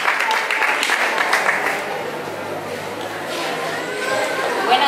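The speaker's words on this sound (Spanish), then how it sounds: "Les damos un fuerte aplauso." Audience applause at an entrepreneurship awards ceremony honoring students, a broad steady wash of clapping held at an even level for several seconds.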